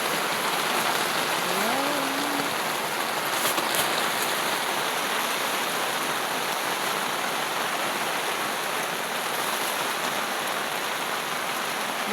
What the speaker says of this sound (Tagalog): Guys, biglang umulan dito sa campsite namin.